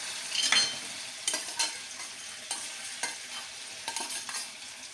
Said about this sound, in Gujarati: હવે એને હલાવી લઈએ.